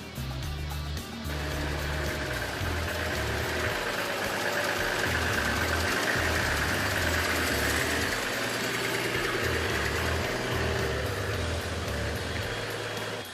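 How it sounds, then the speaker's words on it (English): A diesel four-wheel-drive car climbing a hill in second gear: a steady, low, rumbling engine drone with slight knocking texture, constant and close throughout, no voices. "we pull away steadily and increase our speed as we go up the hill, but not by too much."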